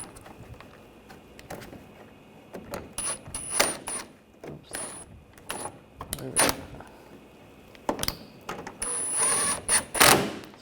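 Ratchet tightening bolts during a timing belt and water pump job on a Honda Pilot V6 engine, giving quick clicking bursts in several short runs with pauses between, fairly close.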